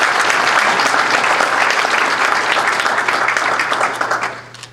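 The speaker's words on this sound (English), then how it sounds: "let's give Glitter of Hope and this initiative and this effort a big round of applause." A big round of applause from the audience at a book launch, loud and dense with many hands clapping together, sustained throughout and fading at the close.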